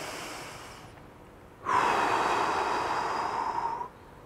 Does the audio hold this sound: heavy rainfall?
no